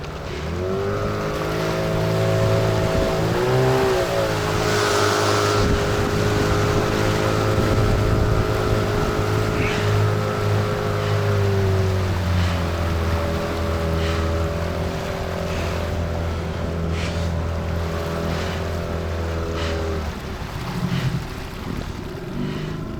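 A motorboat engine drones steadily on the Rioni river during a duck hunt, loud and close with a sustained tonal hum that shifts pitch as the throttle changes, running unbroken for the whole stretch.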